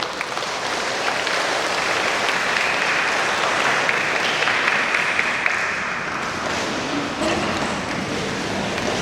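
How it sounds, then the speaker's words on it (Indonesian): Wedding guests applaud the choir, a dense, steady wash of clapping from a large crowd that fills the room throughout without letting up. "Tolong beri tepuk tangan juga untuk KOR."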